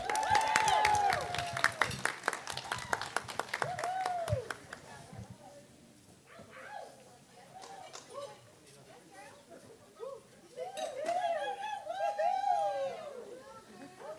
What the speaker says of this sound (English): Let's have a nice round of applause for the matron of honor, Molly, and the maid of honor, Megan